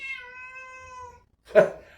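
House cat giving one drawn-out tonal meow, close and clear, then a brief pause and a short sharp noise burst.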